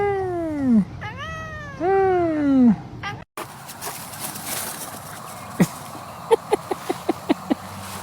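A house cat gives three long, loud meows in close succession, then a short pause, followed by a run of sharp knocking taps from something striking a water ball and a faint voice in the background.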